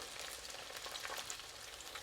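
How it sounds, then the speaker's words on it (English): Dense, even crackling and hissing of chicken pieces deep frying in oil, steady throughout at moderate loudness with no talking. "double frying will actually extract the oil out of the chicken and make this crispier"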